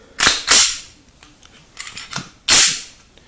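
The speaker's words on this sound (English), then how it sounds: "when you fire the trigger on that, it returns" A Sigma SD pistol's trigger is dry fired, giving sharp, close mechanical clicks: a quick pair of snaps, softer clicks of the trigger returning, then another loud snap, with no voice.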